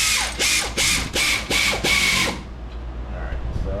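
Hand ratchet tightening a bolt on a 1992 Toyota during lowering work, sounding as about six rapid, loud clicking bursts in quick rhythm close up, then stopping, leaving quiet shop ambience.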